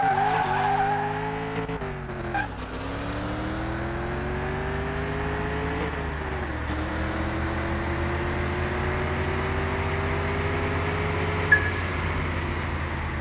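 A Dodge Charger with 1000 of torque launches in a Car Mechanic Simulator drag run, its engine rising steadily through a long pull with a sustained tire squeal, loud and continuous, a brief dip near two seconds and a sharp click near the end.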